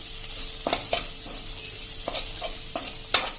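Spices are stirred into okra curry frying in a pan, soft sizzling underneath a few distinct spoon scrapes and taps against the pot, the last one sharper.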